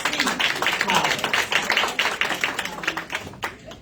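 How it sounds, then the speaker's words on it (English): Audience applause at a panel discussion on cancer: a dense, steady wash of many hands clapping that holds for several seconds and thins slightly toward the end. "A round of applause for Dr. Yvonne C. Collins."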